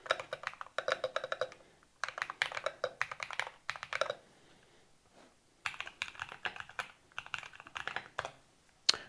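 Rapid typing on a KBDFans TOFU 65 mechanical keyboard fills the clip in three bursts of dense, clacky keystrokes, with a short quiet gap in the middle. No one speaks.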